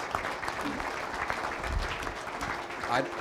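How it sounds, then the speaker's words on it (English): Applause from the audience at a winter wheat growers' meeting in Michigan, a steady patter of clapping that is fairly quiet and runs the whole time, with some voices mixed in. "Let's give him a round of applause."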